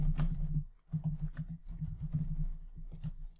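Typing on a computer keyboard, a steady run of close, crisp key clicks with brief pauses, heard on its own without talk.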